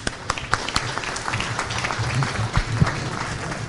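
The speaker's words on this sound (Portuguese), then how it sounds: "É uma salva de palmas a ambos." Applause at a public plenary session of an environmental council, many hands clapping in a steady dense patter for several seconds, with a few louder claps standing out near the end and a faint murmur of voices beneath.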